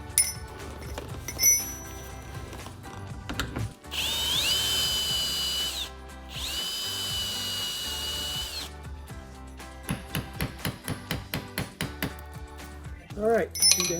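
A power drill bores out rivets on a 2014-2019 Corvette front splitter in two sustained whirring bursts, each a few seconds long, bracketed by handling clatter and short tool pulses.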